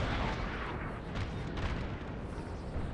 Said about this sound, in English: Absolutely barraging them with my artillery.